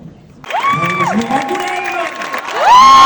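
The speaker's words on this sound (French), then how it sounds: "je vous propose donc de réserver une ovation à l'équipe du film" A film festival audience breaks into a loud ovation, cheering and whooping with clapping, excited voices rising and swelling together.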